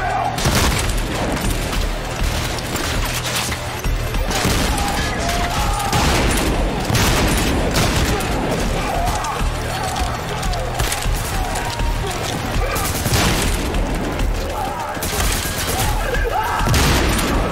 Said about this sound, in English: Stop shooting, will you?